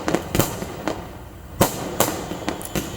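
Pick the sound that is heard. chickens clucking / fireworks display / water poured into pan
fireworks display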